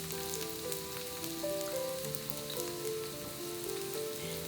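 Carrots frying in a hot pan, giving a continuous, even sizzle that holds steady and fairly close throughout.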